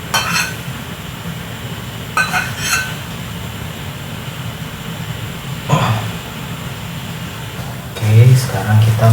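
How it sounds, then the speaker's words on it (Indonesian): Ground chili mixed with cooking oil sizzles in a pan with a steady broadband hiss, close and fairly loud, under someone talking, with a few brief stirring scrapes and clinks. "Sekarang cabainya tadi gua dicampur minyak goreng ya, udah masukin minyak goreng, tinggal kita masukin aja ke dalam."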